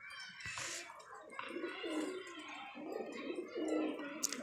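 Pigeons coo softly in a loft while a male follows a female that is about to lay eggs, giving low, rolling calls that repeat over a faint background.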